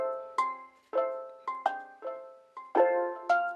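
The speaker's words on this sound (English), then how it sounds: "The first one is called Bell Oscobar from Palace's fourth bank," Omnisphere's Bell Oscobar synth bell patch plays a simple, playful melody of about eight struck bell notes, each with a bright attack and quick decay, clean and close with no voice.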